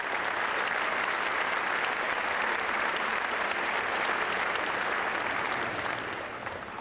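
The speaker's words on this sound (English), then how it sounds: "How about we give all of them a nice round of applause while they're coming up?" Sustained audience applause at a Naval Academy speech, dense and steady clapping from a large crowd filling the room for nearly seven seconds, tapering slightly at the end, with no voices on top.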